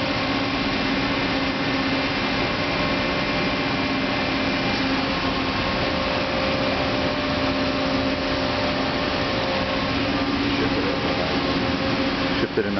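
A Bullard CNC vertical turret lathe turning slowly at 4 RPM gives a steady, continuous mechanical hum with a constant droning tone and broadband machine noise, loud and unbroken throughout, with no talk.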